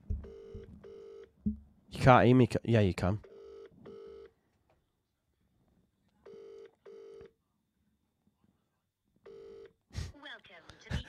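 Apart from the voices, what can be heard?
telephone call ringing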